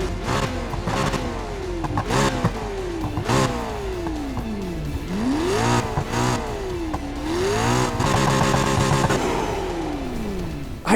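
McLaren P1 GTR engine in Need for Speed Heat revs repeatedly, loud and close, with rising and falling pitch sweeps as gears shift and the throttle blips, heard alone without talk.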